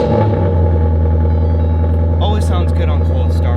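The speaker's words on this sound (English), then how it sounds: "Always sounds good on cold startup." A 2023 Nissan Z engine holds a steady deep idle right after a cold start, a loud, close, constant rumble while a person talks over it in the second half.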